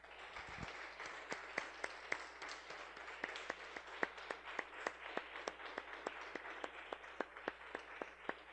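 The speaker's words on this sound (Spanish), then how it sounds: "Damos un aplauso, hermanos," A church congregation claps in a steady rhythmic beat, quiet and somewhat distant, over a low constant hum.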